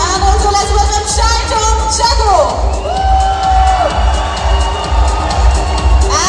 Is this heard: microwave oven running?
no